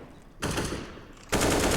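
Rapid rifle fire in Counter-Strike on the Ancient map, wall-bang bursts shooting through cover, a quieter stretch of shots followed by a louder close volley.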